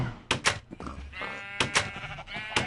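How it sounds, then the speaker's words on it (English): Minecraft sheep bleating in a farm pen, several short bleats in two clusters close by, loud and distinct with brief gaps between them. "Alright, more sheep."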